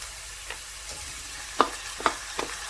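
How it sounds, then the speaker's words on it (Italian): Minced meat frying in a pan, heard as a steady sizzle close by with a few sharp clinks and scrapes of stirring on top. "aggiungiamo la carne trita"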